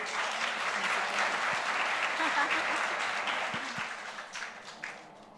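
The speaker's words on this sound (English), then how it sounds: "A big round of applause for the entire musical team." Applause for the musical team at an ISKCON Chetana Festival evening program, a continuous roomful of clapping that swells and then tapers off, with faint voices mixed underneath.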